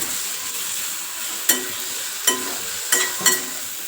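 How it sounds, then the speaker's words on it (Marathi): Roasted sesame seeds and green chillies stir-fried in a pan with a little oil give a steady close sizzle, broken by four sharp spatula scrapes and clacks against the pan. "इथं एक चमचा भाजलेलं तीळ घ्यायचे आणि चांगलं परत परतून घ्यायचं"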